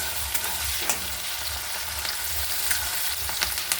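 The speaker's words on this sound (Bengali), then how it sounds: "কারি পাতাটা আমি দিয়ে এর সাথে এই মশলার সাথে ভেজে নেব" Curry leaves fried together with a spice paste in a pan, for a spiced crab mash, make a loud, steady, close sizzle with light stirring scrapes and no talking.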